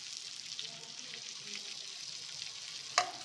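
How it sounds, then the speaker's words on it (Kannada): Bangda mackerel frying on a tawa, a soft, even sizzle that stays level throughout and ends on one sharp metallic tap. "ಬಾಂಗ್ಡಾ ಮೀನು ಫ್ರೈ ತುಂಬ ಟೇಸ್ಟಿಯಾಗಿರುತ್ತೆ."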